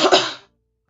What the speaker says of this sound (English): Oh no, I coughed.